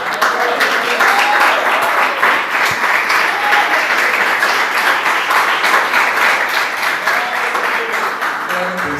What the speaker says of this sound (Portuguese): louve a Deus com palmas, porque o Senhor merece